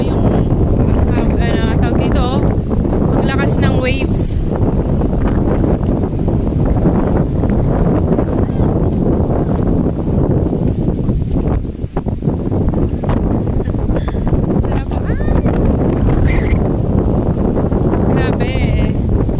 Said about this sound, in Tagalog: So windy today. You should be cautious because of the wind.